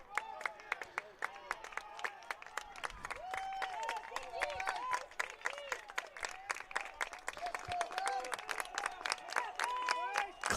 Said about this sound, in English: Claps from the crowd.